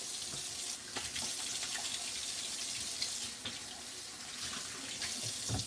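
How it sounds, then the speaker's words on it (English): Hands being washed under a running kitchen tap, a steady broadband rush of water with small splashy shifts, close and fairly loud throughout, no talking. "Let me wash my hands again."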